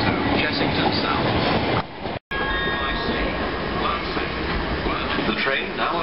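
A South Western Railway train approaches platform 11 at Clapham Junction, rumbling steadily with rail noise, with a brief dropout midway, then continues; faint tonal squeals appear as it runs along the track.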